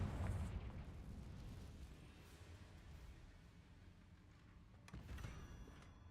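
Confringo blasting spell from Hogwarts Legacy bursting in a loud, low boom at the start, then a rumbling decay, with a second sharp blast near the end.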